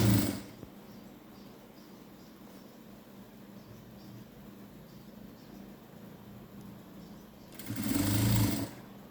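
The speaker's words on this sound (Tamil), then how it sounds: "இப்போ நம்ம தைக்கலாம்" A sewing machine stitches a blouse patti with a steady, quiet whir. The motor grows louder in a brief burst near the end.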